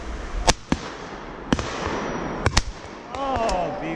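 Several loud, sharp shotgun reports at a driven pheasant shoot, sounding as separate blasts spread over a few seconds with someone talking in between.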